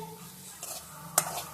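Quail eggs being stirred into gravy in a pan, with a few soft scraping strokes of a utensil, a sharp clink against the pan and a faint sizzle beneath.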